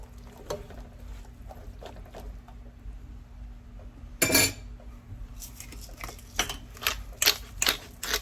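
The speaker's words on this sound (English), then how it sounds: "And then just mixing all of this together." A utensil stirring rinsed canned beans and rice together in a bowl, with soft scraping and clinking, quiet at first, then one loud scrape and a burst of busier close clatter toward the end.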